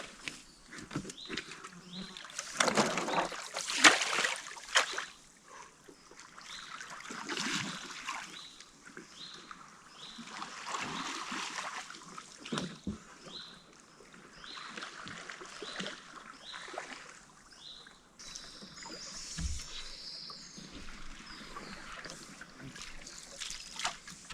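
A canoe paddled on the Stokhid river, soft intermittent paddle strokes and water trickling and dripping close by, quiet and irregular with gentle splashes against a calm outdoor background.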